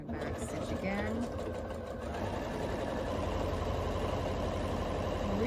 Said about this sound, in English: I'm going to back stitch again.